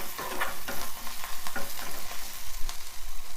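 Onions and tender tamarind leaves fry in a pan for an egg dish, a steady close sizzle broken by repeated scraping stirs, with no one talking.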